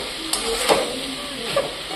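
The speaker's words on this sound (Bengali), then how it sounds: "একটু কষতে থাকি" Food is stir-fried kosha-style in a hot pan, with a close, continuous sizzle broken by a few scraping stirs of a spatula.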